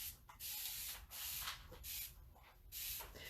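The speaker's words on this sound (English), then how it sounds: "Use my trusty little spray bottle here." A small handheld spray bottle of water gives four quick hissing squirts in a steady rhythm, close and crisp, with brief pauses between them, used during a fabric ink transfer.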